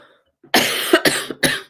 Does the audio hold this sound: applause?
no